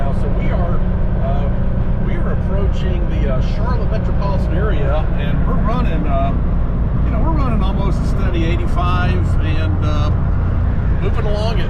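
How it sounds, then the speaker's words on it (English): A Porsche 911 SC's engine straining under load at highway speed, a steady low drone with road and tire noise underneath and faint squeaky rattles in the cabin. "you might can hear the motor working a little bit harder now."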